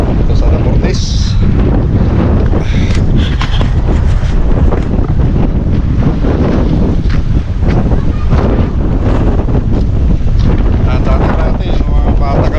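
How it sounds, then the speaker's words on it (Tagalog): Strong wind buffets the microphone at a seaside pier in Damortis, La Union, a constant loud roar that holds across the whole stretch with surf and boats nearby. "Yan ang sarap ng Tama ng hangin."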